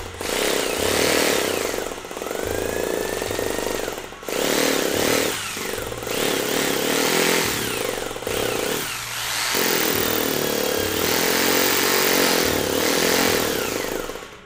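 A Bosch drill runs in concrete hammer-drilling mode, a loud, steady buzzing whine with a rapid hammering rattle that stops and restarts several times as the trigger is pressed.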